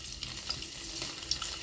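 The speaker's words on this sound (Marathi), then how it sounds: "जीच कढई घेतली आहे त्याच कढईमध्ये तेल तापायला टाकलंय, लसूण टाकला तळायला" Garlic fries in hot oil in a kadhai with a steady, even sizzle that is close and moderately loud, continuing throughout the short moment with small crackling pops.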